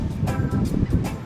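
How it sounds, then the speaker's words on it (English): Gusty wind roars and thumps against the microphone in uneven bursts, loud and close. "Sorry for the wind. It's real windy."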